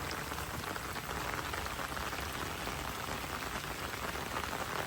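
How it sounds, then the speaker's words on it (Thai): Dense, continuous flash-flood water churns and hisses loudly, a broad steady roar with no pauses and no voices. "น้ำป่าน้ำไหลหลาก"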